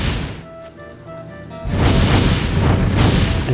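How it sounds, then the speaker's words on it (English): Fireball spell explosions in the video game Divine Divinity: a quieter stretch of game ambience, then a loud booming blast with a rushing whoosh that sustains, and a second surge of impact noise shortly after. "and shoot fireballs at him"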